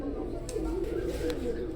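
Adult Oman Teddy pigeons coo in soft, low murmurs close by, with someone talking over them throughout.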